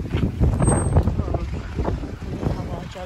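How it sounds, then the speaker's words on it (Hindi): Strong wind blows outdoors in bad UK weather, buffeting the microphone with a loud, gusty low rumble that surges and eases throughout. "बहुत ज़्यादा हवा जा रही है।"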